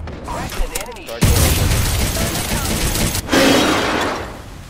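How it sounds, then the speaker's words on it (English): Enemy gunfire in the battle-royale shooter Apex Legends: sharp bursts of shots and impacts crackle close by amid mechanical clatter, with loud blasts near the start and again toward the end. "The enemies are shooting at me."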